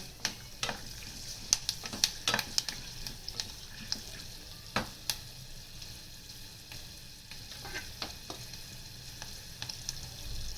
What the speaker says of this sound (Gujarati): સિંગદાણા, સિંગદાણાને 2 મિનિટ સાતવશું।